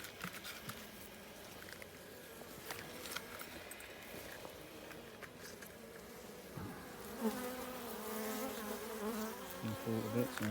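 Honeybees buzzing around an open beehive at an apiary during honey collection, a dense continuous drone of many insects close by with individual bees passing and swelling louder near the end.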